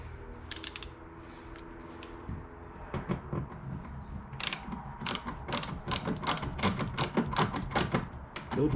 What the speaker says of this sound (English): let's drive these bolts in